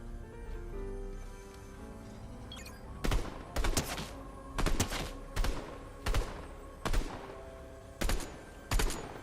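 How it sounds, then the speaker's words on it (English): Video game gunfire comes in a series of about eight loud, sharp bursts at fairly regular intervals, each a quick cluster of shots, heard over a low steady background hum. "who's shooting at me over here?"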